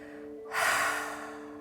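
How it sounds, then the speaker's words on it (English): A single breathy exhale pushed out of the body during a yoga abs workout, rising suddenly and then fading slowly, soft and close over a faint steady background hum. "we'll just exhale all the breath out of the body"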